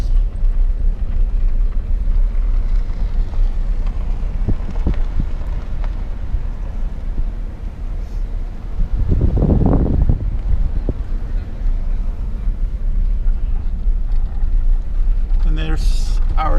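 Strong wind buffets a microphone at Roche Lake, a steady low rumbling roar throughout with a louder gust surge midway, and brief faint voices near the end.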